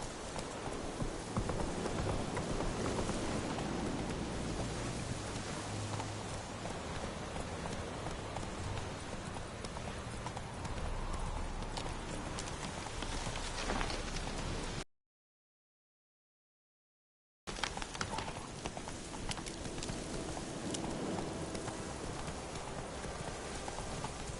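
Roach, a horse in The Witcher 3 video game, gallops with a steady, rapid clip-clop of hooves that runs continuously and loud, broken by a brief gap of silence midway, with faint rain-like patter underneath.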